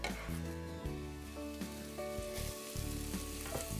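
Onions fry in coconut oil in a hot pot with a continuous loud sizzle, while a steady tonal hum runs underneath.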